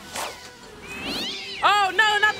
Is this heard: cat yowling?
yes